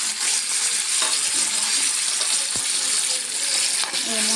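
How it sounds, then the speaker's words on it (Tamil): Three bananas roasting in ghee in a kadai for a rice-banana sweet, giving a loud, continuous, close-up hissing sizzle with small crackles throughout. "இங்கே ஒரு கடாயில் நெய் ஊற்றிருக்கு. அதில் 3 பனானா"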